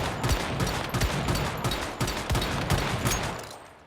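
Rapid gunfire in the video game Once Human, repeated shots cracking out in quick bursts at a steady rhythm, fairly loud and close, with no talk over it.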